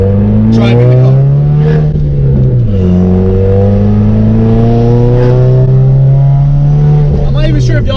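A Subaru WRX/STI engine revs loudly and steadily, its pitch climbing and dipping in long sustained sweeps, close and continuous throughout.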